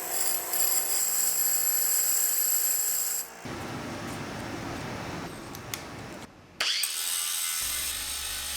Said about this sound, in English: You need to sharpen the tungsten though.